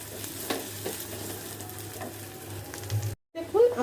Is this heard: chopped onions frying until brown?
yes